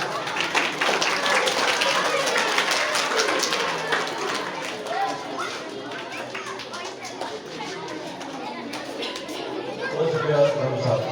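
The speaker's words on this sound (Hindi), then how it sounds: "तालियां बजाओ तालियां" Audience clapping fills a school prize-giving ceremony for primary-school position holders, sustained and fairly loud throughout, with crowd chatter and voices mixed in beneath the applause.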